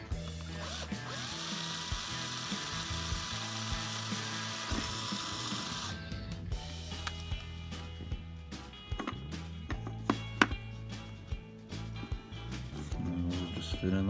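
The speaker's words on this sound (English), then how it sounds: "Just drill straight through." A drill bores pilot holes straight through a diecast Maisto Lamborghini model, giving a steady high whine for several seconds, then scattered clicks, taps and handling noises close by.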